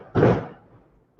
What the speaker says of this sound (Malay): Bunyi mercun.